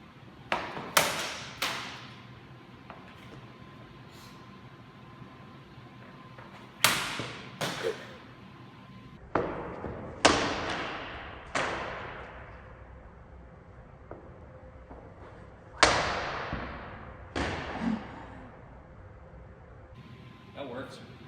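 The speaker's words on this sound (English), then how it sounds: "let's take a look at some cut testing with this blade and see what it can do" A Cold Steel Man at Arms Messer blade strikes a target in a series of sharp, close chopping impacts, each followed by a brief thud or clatter, spaced irregularly across quiet gaps with a faint hum behind.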